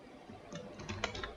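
Someone types on a computer keyboard while entering text in a spreadsheet, producing a short, quiet cluster of close, crisp key clicks with no talking.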